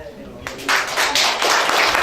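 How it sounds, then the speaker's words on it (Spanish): Audience applause breaking out at a constituent assembly gathering in Bellavista, starting after a short pause and swelling into steady, fairly close clapping from many hands. "Pido un aplauso para los expositores flamantes."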